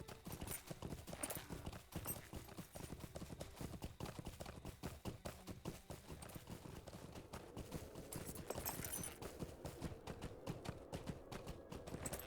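Horse hooves clop steadily in a fast rhythmic gallop while riding across open ground in LOTRO, continuous and close throughout with no pause.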